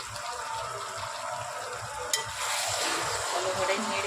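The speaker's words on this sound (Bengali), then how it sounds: "ভালো করে নেড়ে নিই।" Salted food being stirred in a hot cooking pan, a steady sizzle with scraping and stirring noises, close and moderately quiet, brightening briefly halfway through.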